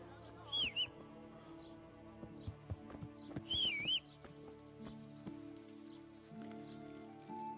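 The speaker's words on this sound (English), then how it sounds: "Este caballo." Horse in the video game Kingdom Come: Deliverance, hooves clip-clopping in an uneven rhythm with a couple of short whinnies, faint and mixed with birdsong and rustling.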